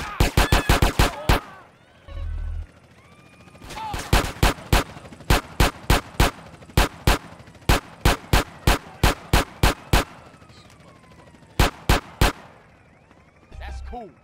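Sharp gunshots from GTA San Andreas Definitive Edition ring out in rapid bursts, a fast cluster at the start followed by steady evenly spaced shots, loud and close, with brief low rumbles between bursts.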